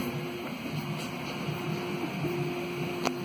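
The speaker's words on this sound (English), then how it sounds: "Well, bed movements, any printer makes noise." A Prusa MK3S 3D printer in a small print farm shifts its bed, giving a steady, faint motor whine over a constant fan hum, with a small click near the end.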